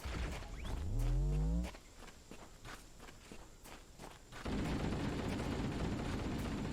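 Gunfire from Halo: Combat Evolved, with Jackals' energy shields deflecting bullets. Rapid sharp shots crackle between a loud rising electronic whine at the start and a dense burst of sustained noise near the end.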